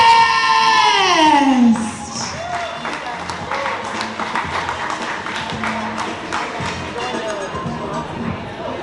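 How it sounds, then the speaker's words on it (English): After a loud introduction trails off, an audience at a comedy show claps for the incoming comedian, a quieter, steady patter of many hands filling the rest of the clip. "Start clapping right now for Mr. Sean Guest!"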